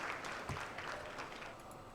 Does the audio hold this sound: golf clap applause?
yes